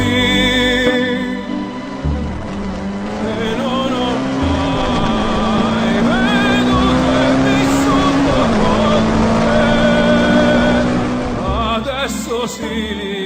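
A 2012 Fiat 500 Abarth Esseesse with a sports exhaust drones loudly and steadily, its engine note climbing gradually in pitch as it accelerates, then easing near the end.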